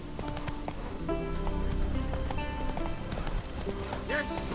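A horse gallops with steady, rapid hoofbeats in The Witcher 3 video game, running continuously under game music and a voice.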